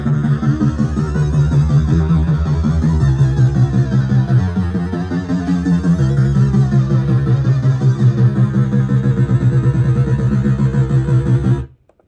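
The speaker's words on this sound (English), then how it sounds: "This detuning with distortion diode." EDM synth patch with detuning and diode distortion, a thick buzzing sustained tone with layered harmonics and shifting pitch, loud and continuous for about eleven seconds before cutting off abruptly.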